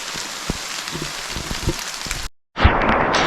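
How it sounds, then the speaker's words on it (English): Steady rain falls in a forest during deer season, a dense hiss of drops pattering on leaves and surfaces with scattered heavier plinks, broken by a brief gap before the downpour resumes loudly. "It's been raining for about 15 minutes now."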